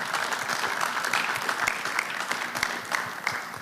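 An audience at a business forum applauds steadily and loudly throughout, a dense wash of clapping with no pauses.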